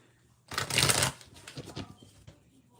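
A deck of tarot cards is shuffled by hand, one loud riffling burst up close followed by softer sliding and tapping as the cards settle.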